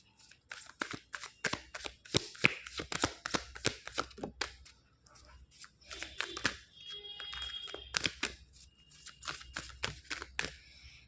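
Tarot cards shuffled and drawn from a deck, a run of quick crisp flicking and snapping bursts of varied loudness, close up with short pauses between, no talking.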